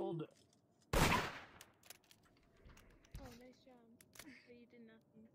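A single loud gunshot in the VRChat game world Murder, a sharp blast followed by people talking over light clicks and knocks.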